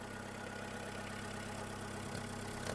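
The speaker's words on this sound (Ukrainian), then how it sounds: "Робота двигуна." Skoda Fabia engine idling steadily, a close, even mechanical hum with a faint rhythmic tick and a couple of small knocks near the end.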